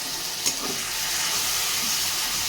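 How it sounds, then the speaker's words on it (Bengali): Fish curry masala is sautéed with a splash of water in a pan for a Bengali fish curry, giving a steady loud hiss and sizzle with a single brief scrape near the start, close and continuous. "এবার আবার একটু জল দিয়ে আবারও কষিয়ে নেব।"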